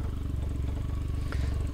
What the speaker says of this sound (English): So engine runs normally.